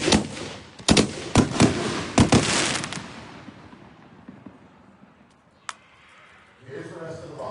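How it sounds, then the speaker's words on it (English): Seven-inch canister firework shells at a demo shoot, a rapid string of loud booming bursts over the first few seconds, then fading rumble and a lone later crack as a voice talks near the end. "It is a 7-inch canister shell. Again, we're shooting 4 of those, and then the rest of the box."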